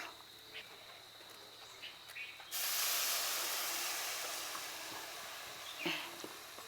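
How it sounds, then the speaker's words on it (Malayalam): Melted jaggery is poured into grated coconut with ghee in a pan. After a quiet start, a sudden loud hiss bursts up and then slowly fades while it keeps sizzling steadily. "ഇനി നമുക്കിതിൽ ശർക്കര ഉരുക്കി വെച്ചത് ഇതിലേക്ക് ഒഴിച്ചു കൊടുക്കാം."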